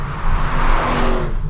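Aston Martin DBX 707 SUV launching hard from a standstill in Sport mode, a loud, dense engine roar building steadily over a short burst with no talk.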